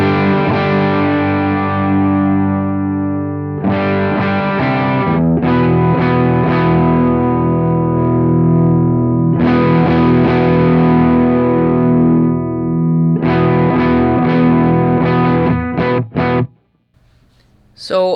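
A guitar played through a DIY high-voltage tube overdrive pedal gives loud, gritty distorted chords and riffs in several bursts with short gaps, ending in a few quick stabs and near silence.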